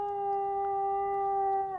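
A dog howls in the video game Dragon Age 2, one long, steady, mournful tone held for about two seconds with a slight waver near the end, clear and close with no talk over it.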